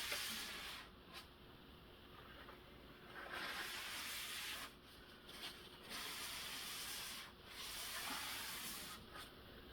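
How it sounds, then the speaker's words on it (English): A rag rubs excess finish off a painted wooden chest in several soft, hissing wiping passes, each lasting a second or two with brief pauses between, heard close and quiet. "We're wiping off any excess, and then I'm going to come back in and then basically smooth it out"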